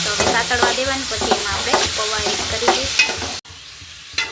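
Onion and tomato frying in oil with asafoetida for poha, a loud, steady close sizzle with stirring scrapes throughout that cuts off abruptly near the end, no talking.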